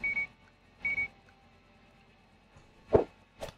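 Two short electronic beeps from a checkout barcode scanner in the game Gas Station Simulator sound close together at a steady pace, followed by a couple of dull thumps of items being handled, with no talking.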